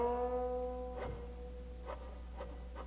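Plucked string tone played with the da nao vibrato technique from the Wild Geese piece, imitating geese flapping their wings: a sustained pitched note with a few soft pulsed plucks and wavering repeats, faint and alone.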